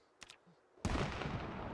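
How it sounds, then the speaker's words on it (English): A single gunshot in the video game Project Zomboid, fired at a farmhouse: a sharp, loud blast with a rough, lingering tail, preceded by a few faint clicks. "And hopefully that gunshot doesn't screw us."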